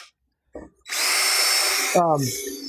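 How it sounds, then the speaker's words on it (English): Cordless power drill spinning up against a cracked 2003 Jeep Grand Cherokee headlight lens, a loud steady high whine for about a second, followed by a short voice and another burst. "You're definitely going to want to hold this drill with two hands"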